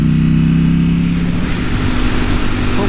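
A Ducati V4 motorcycle engine drones steadily while riding, a close, continuous throaty hum with wind noise building toward the end.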